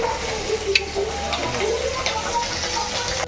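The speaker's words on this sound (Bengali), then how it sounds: "ঠিক আছে চলো মাছটা ভাজা হয়ে যাক" Fish frying in a pan, a steady close hiss and sizzle that carries on without a break, with faint kitchen clatter in the background.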